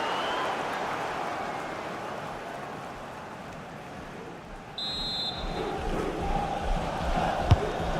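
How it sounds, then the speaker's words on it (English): A simulated stadium crowd in the FC26 football video game roars steadily during a Premier League match as a corner is awarded, a dense wash of cheering that swells slightly toward the end, with a brief whistle-like tone partway through. "Well, just listen to the crowd."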